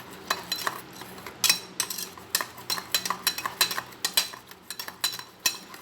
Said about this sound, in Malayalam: നല്ലോണം മിക്സ് ചെയ്യണം